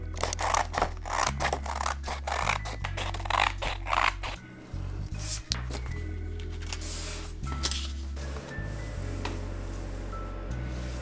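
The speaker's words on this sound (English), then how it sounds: "after we cut out these pieces" Scissors cut dress pattern pieces from fabric, making repeated close, crisp snips and scraping glides along the table in uneven bursts, with no voices.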